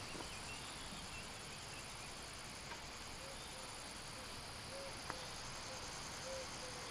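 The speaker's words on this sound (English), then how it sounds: "The sound here is incredible, all the crickets and" Crickets chirp in a dense, continuous high shimmer beside a road near Rocamadour, France, faint and steady throughout with no talking.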